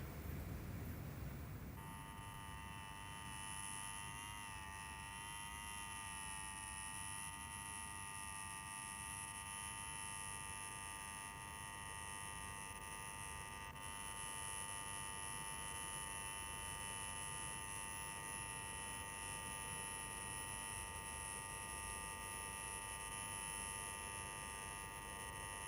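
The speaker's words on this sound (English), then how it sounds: "Take your finger off that bleeding buzzer." A buzzer held down continuously, a steady harsh electric drone that starts abruptly and holds unbroken at the same pitch for a long stretch, with no talk.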